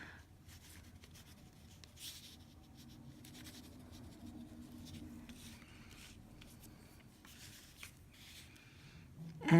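A pen scratches across the page of a traveler's notebook in short, uneven strokes with brief pauses, close and quiet, with soft paper rustles between the lines.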